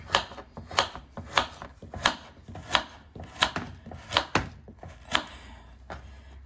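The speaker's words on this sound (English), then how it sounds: "I'm gonna slice these up." A knife slices vegetables on a cutting board for salmon fish head soup, giving about a dozen crisp, evenly spaced cuts in a steady rhythm, close and clear with no talk.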